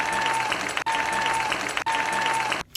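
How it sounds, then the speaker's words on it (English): A canned crowd applause loop with a faint steady tone, played three times in a row, each pass cut off by a brief drop-out. "let's give a round of applause for those who completed the side quest without a guide"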